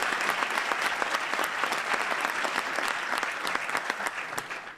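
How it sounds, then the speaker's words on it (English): A crowd applauds elected officials at a Greenwise Sacramento event. Steady, dense clapping from many hands is spread through the room at moderate level and keeps a constant texture throughout. "Let's give our elected officials a round of applause."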